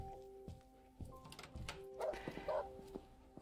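A dog named Taco in the video game Animal Shelter gives two short, fairly faint barks in quick succession, with thumps and light background tones before and around them.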